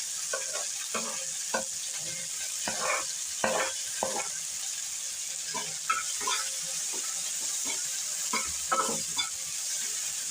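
Crushed garlic fries in a pan with a steady, soft sizzling hiss, broken by intermittent scraping stirs.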